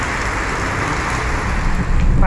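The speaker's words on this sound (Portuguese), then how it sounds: "Muita chuva." Heavy rain during a motorcycle ride, a steady loud broadband hiss of downpour and road spray that swells slightly toward the end, with no speech.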